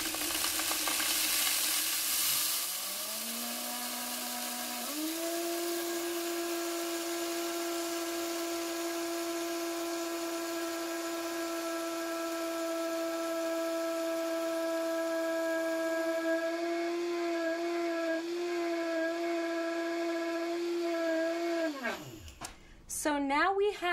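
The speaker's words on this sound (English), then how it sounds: "I'll grind the wheat berries for about a minute." A Vitamix blender grinds wheat berries into flour, its motor spinning up to a steady high-pitched whine that holds for nearly twenty seconds before winding down abruptly.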